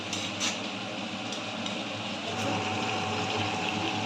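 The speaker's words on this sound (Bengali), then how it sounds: "এবারে মাংসতে জল দিয়ে দেবো বেশি দেবো না" Water is poured into chicken cooking in a pan for doi chicken, a continuous gushing pour over a low steady hum, fairly close and unbroken.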